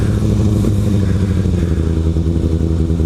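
A Kawasaki ZX6R motorcycle engine runs loudly and steadily during a test ride, with a dense low rumble and constant drone. Wind noise runs through it and no one speaks.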